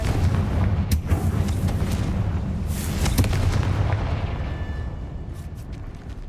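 A Confringo fire-blast spell in Hogwarts Legacy, the game, hits with a heavy booming explosion and a long rumbling roar that stays loud throughout and fades a little toward the end, with sharp crackles scattered through it.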